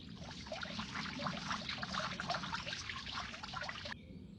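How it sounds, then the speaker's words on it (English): Water pours steadily onto flowers in a children's animated story, a continuous splashing trickle for about four seconds that then stops abruptly. "Let's water them so the flowers grow faster."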